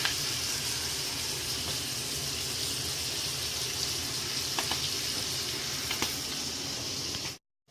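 Flank steak sizzles in a pan, a steady, moderately quiet frying hiss that runs unbroken with a few faint clicks before cutting off abruptly at the end.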